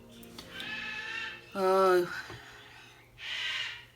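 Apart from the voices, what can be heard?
pet bird screaming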